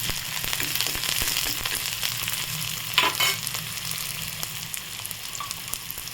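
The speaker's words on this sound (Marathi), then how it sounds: "कांदा पण परतून घ्यायचा बारीक गॅसवर। याला 1-2 मिनिट छान परतून घ्यायचं।" Onion sautés in a pan over low gas for egg bhurji, a soft continuous sizzle marked by scattered spoon scrapes and one sharper clatter partway through, heard close with no voices.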